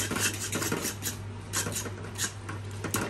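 A spoon scraping and stirring Maggi noodles with masala in a metal pan, close and steady, with repeated scraping strokes over a constant low hum.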